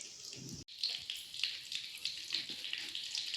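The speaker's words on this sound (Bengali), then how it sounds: "তেল ভালোভাবে গরম হয়ে গেলে একটা তেজপাতা, একটা ছোট এলাচ, দারুচিনি আর লবঙ্গ দিয়ে দিচ্ছি।" Whole bay leaf, small cardamom, cinnamon and cloves dropped into hot oil give a steady, close sizzle and crackle that breaks for an instant, then carries on alone with no talk.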